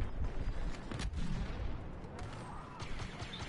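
Continuous blaster and gunfire from Star Wars Battlefront 2 crackles through a busy battle, with dense repeated shots and booming impacts under a noisy, crowded mix.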